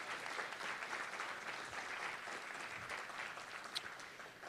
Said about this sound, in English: Let's just give them a big round of applause once again.